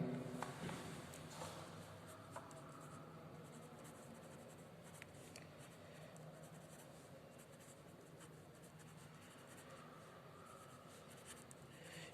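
Handwriting on a board or paper during a lecture, soft scratchy strokes repeating irregularly and quietly up close, with faint room noise and no speech.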